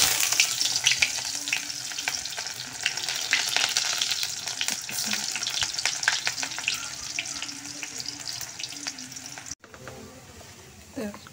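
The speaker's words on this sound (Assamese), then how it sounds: "এইপিনে শাকখিনি ভাজি কৰিছোঁ" Leafy greens fry in hot oil in a home kitchen, a steady close sizzle with stirring and a brief pause near the end before the crackle resumes; faint voice in the background.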